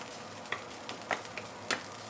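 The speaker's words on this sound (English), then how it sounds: "you want to fry this until it is crispy" Ginger frying in a pan toward crispness, a soft continuous sizzle broken by a few light stirring clicks, close but quiet.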